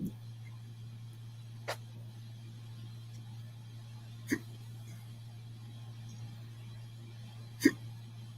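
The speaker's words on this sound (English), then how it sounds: "Got hiccups over there, man?" Three separate hiccups, sharp and brief, are spaced a few seconds apart over a steady low hum, the last one loudest.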